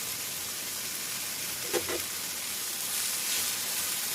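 Coriander powder with mint and coriander leaves lightly frying in a pan for palak paneer gravy, a soft constant sizzle with a couple of brief stirring scrapes midway.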